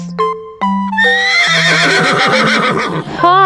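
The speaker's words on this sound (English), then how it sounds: "Horse," A horse lets out a loud, shaky whinny lasting a couple of seconds, set between simple synthesized musical notes in a preschool song about farm animals.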